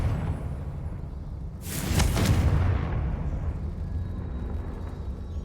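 A Confringo blasting curse detonates in Hogwarts Legacy: a sharp burst of noise about two seconds in that rumbles for roughly a second over a low ambient drone, then fades back to the steady background.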